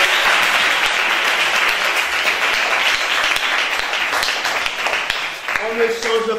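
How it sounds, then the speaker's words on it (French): A church congregation applauds the mothers who feed the children, the clapping loud and continuous, with voices mixed in and a few sharper claps near the end. "on va les applaudir aussi."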